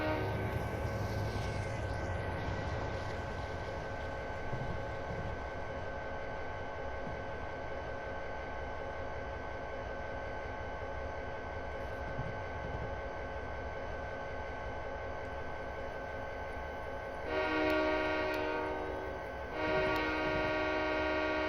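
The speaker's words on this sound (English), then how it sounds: "Is that a train coming? That is a train coming." A mixed freight train on the Castle Rock Railroad rumbles steadily past a road crossing, with strong sustained tonal bands running throughout and a louder horn-like surge near the end, all without talk.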